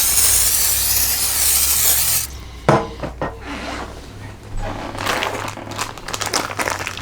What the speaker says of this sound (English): let me spray this middle rack